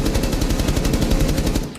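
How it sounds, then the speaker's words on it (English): Rapid automatic gunfire from Rainbow Six Siege hammers a reinforced wall, a loud, close, continuous burst of evenly spaced shots lasting nearly two seconds before cutting off, with no voices. "I can shoot the reinforced wall as much as I want to, but nothing's gonna happen."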